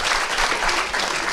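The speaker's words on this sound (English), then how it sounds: "round of applause for Long Legs" Audience applause at a live Halloween podcast recording, a steady dense burst of clapping for a costumed guest called Long Legs, loud and continuous throughout.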